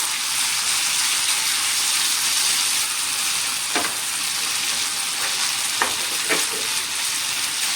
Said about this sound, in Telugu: ఇప్పుడు బాయిల్ చేసుకున్న మ్యాగీ ఈ పెనం మీద పరుస్తామండి.